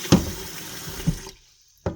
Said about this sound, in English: So, alright, I'm gonna catch my water now.